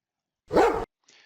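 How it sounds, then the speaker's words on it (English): A dog bark sound effect from the Purple Mash 2Chart coding tool plays as one short, clear bark, followed by a faint trailing yip against silence. "Hopefully you just heard the dog bark in there."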